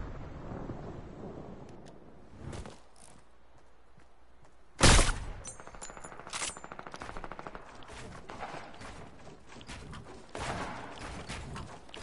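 Fortnite gunfire rattles in bursts, with one loud sharp shot standing out midway and further rapid volleys of mixed intensity continuing around it.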